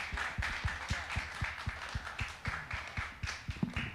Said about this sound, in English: So, yes, once again, just clap for Chi Chi DeVayne.